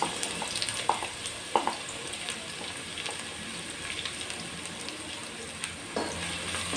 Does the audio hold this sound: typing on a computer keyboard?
no